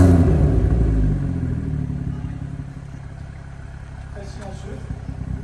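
A freshly started BMW 140i engine runs at a loud, rumbling idle that settles quieter after about a second, while people talk nearby.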